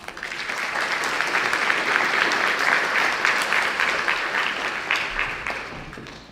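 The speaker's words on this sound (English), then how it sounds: "let's give them all a big round of applause" An audience at a school district event applauds steadily for several seconds, a dense wash of clapping that swells and then tapers off at the end.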